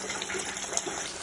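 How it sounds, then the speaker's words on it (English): A steady, close stream of water gushes and hisses from a burst pipe inside a Hot Springs home, continuous without pauses or talking. "A pipe bursting Thursday afternoon, causing a steady stream in their Hot Springs home."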